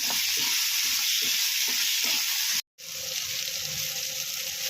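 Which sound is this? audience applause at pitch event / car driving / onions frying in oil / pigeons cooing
onions frying in oil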